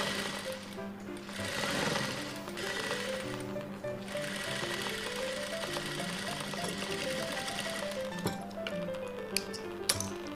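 A sewing machine stitches the neck edge of a blouse, a steady, close mechanical whir with rapid needle clatter that carries on unbroken, ending with a few sharp clicks and no voices.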